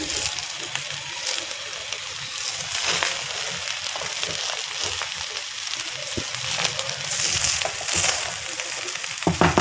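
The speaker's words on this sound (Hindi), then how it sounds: "बस फ्राइड राइस 2 से 4 मिनट हम इसे और भूनेंगे" Chicken and vegetable fried rice frying in a pan, a dense, loud continuous sizzle with scraping stirs throughout, close by.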